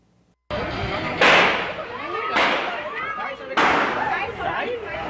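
Gunshot-like bangs in a news report, three sharp cracks spaced about a second apart, each followed by a swell of crowd shouting and chatter as commotion breaks out.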